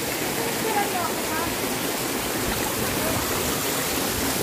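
Clear mountain water flows loudly and steadily on a trip in Atimonan, Quezon, a constant rushing hiss heard close by, with a voice speaking faintly over it.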